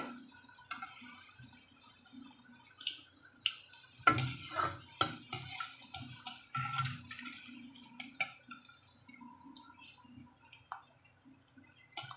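Bitter gourd slices frying in a pan, a low crackling sizzle broken by intermittent stirring scrapes and clinks, close up and fairly quiet, with no talking.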